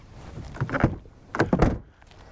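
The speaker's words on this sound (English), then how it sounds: "The 5th and final point that I love about this car is the door handles." Flush door handles on a Jaguar F-Type R deploy in two short mechanical bursts, each a quick motorised whir ending in a soft thunk, heard close up with quiet pauses around them.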